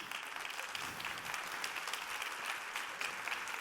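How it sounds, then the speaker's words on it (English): Audience applause after a conference talk on conversational AI, a brief, fairly soft spread of many hands clapping at a steady level. "Thank you very much for your applause."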